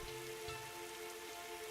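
Heavy rain falls in the video game Fate/Grand Order, a steady dense hiss of rain on surfaces under a faint tonal music hum, with no talking.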